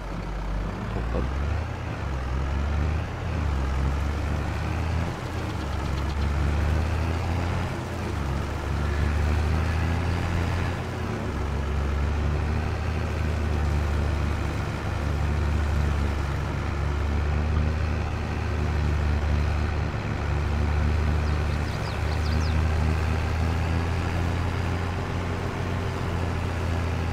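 A tractor engine driving in Farming Simulator 22, a continuous low rumbling drone that holds steady and fairly loud for the whole stretch, no voices.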